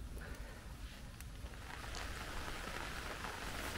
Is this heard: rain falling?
yes